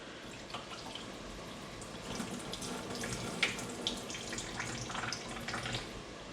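Soaking water drains from a container of cashews into a sink, a steady close splashing trickle with scattered drips, running alone for several seconds with no talk.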